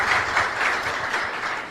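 A conference audience claps steadily through a short burst of applause, a dense, even patter of many hands with no pause.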